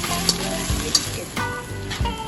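Banana blossom frying with chili sizzles steadily in a pan while a spoon stirs it, with a few sharper scrapes and knocks breaking through the constant hiss.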